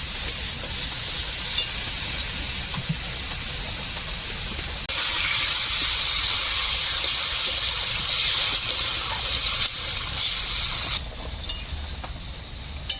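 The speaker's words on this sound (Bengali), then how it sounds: "বন্ধুরা সবজি কষা হয়ে গিয়েছে, আমি জল দিয়ে দেবো।" Water is poured into sautéed vegetables in a cooking pot, a steady loud rushing gush over a sizzle that grows stronger partway through before easing off near the end.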